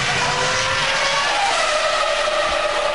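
Formula 1 race cars at the Austrian Grand Prix scream past in a loud, steady high-pitched engine roar, with no speech over it.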